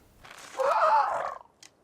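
A Pelagornis from the video game ARK lets out a single loud, warbling bird call lasting under a second, followed by a brief faint chirp, with near silence around it.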